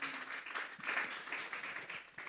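Church congregation clapping hands together during a Spanish-language sermon, a fairly steady wash of many hands at moderate distance with small swells, no voices over it.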